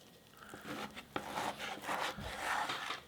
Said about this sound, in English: With your knife, you're going to carefully cut your steak into